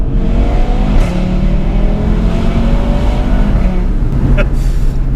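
A loud tuned 510 bhp 2018 Audi RS3 five-cylinder engine drones and revs nearby, a rough burbling exhaust note rising and falling, with brief higher engine bursts toward the end.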